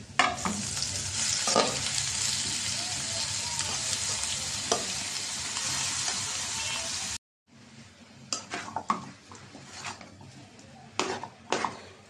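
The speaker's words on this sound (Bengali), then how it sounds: "পেঁয়াজটা ভাজা হয়েছে, আমি এখন শাক দিয়ে দিলাম" Grass pea leaves are stirred into fried onion in a hot pan, giving a loud steady sizzle with scraping stirs, then a cut to quieter frying punctuated by sharp spatula clanks.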